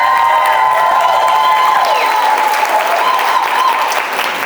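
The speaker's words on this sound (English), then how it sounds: "can we get a serious round of applause for them for getting this together?" A large audience at a community speaking event gives a sustained, loud round of applause, dense clapping with scattered cheers and whistles running throughout.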